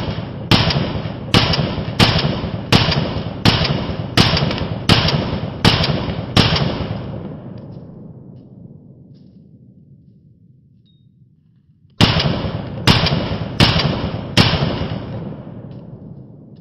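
Pistol shots from an SDS Imports PX-9 made by Tisas ring out in a rapid, evenly spaced string of about eight loud, close reports. The echo fades into silence before another quick burst of shots follows.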